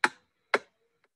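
Metronome clicks from the Reason DAW set to 4/4 time: two crisp, loud clicks about half a second apart, followed by a faint third tick, with no voices.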